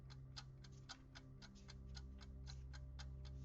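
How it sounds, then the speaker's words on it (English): A clock ticks steadily at close range, its regular clicks repeating over a constant low hum. "Sorry about the clock noise."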